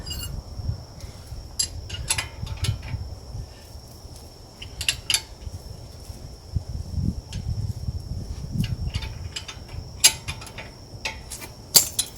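Bolts being tightened during a Brembo rotor and pad swap on a Genesis Coupe, scattered close ratchet clicks and metallic ticks in short bursts over a low background rumble.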